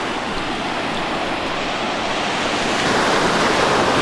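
Ocean waves break and wash up on a beach with water around 69 degrees, a steady broadband roar of surf that swells slightly louder toward the end, with some wind noise on the microphone and no voices.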